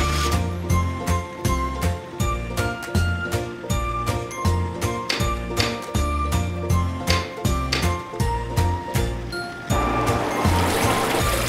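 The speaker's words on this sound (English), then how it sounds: "Ice cream truck." Ice cream truck jingle from a children's toy truck, a bright, repeating melody of chiming notes in a steady rhythm, played loudly and alone.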